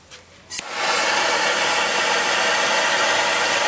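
An 18-tip cast iron jet propane burner for a duck fryer catches with a brief pop, then roars as a loud, steady rushing blast close by.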